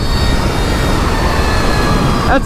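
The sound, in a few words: 80 horsepower light aircraft engine at full power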